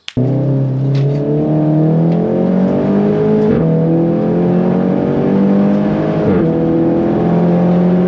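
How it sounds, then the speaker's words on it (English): A race car on a Nürburgring lap drones loudly and steadily close by, its engine note climbing through the gears, with short sharp exhaust cracks and pops breaking in at a few points. "Good pops and bangs."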